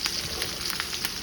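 A steak searing in butter with herbs, giving a dense, steady sizzle with small pops and crackles throughout, close and moderately loud.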